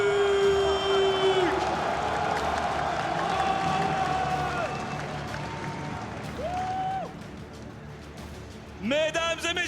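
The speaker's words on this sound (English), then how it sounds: "une dernière salle d'applaudissements pour le Fnatic." An esports arena crowd at the Zénith applauding the Fnatic team at the Mid-Season Invitational semifinals, a broad wash of clapping and cheering under a French announcer's voice and sweeping electronic tones, the crowd noise easing slightly partway through.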